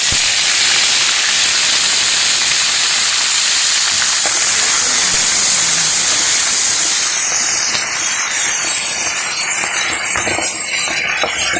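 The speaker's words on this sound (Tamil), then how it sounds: "இந்த கீரை லைட்டாக வதங்கினா போதும்" Vallarai (pennywort) greens sautéing in a pan for thuvaiyal, a loud steady broadband sizzle and hiss that runs unbroken throughout, with faint scraping and stirring clicks and no voices.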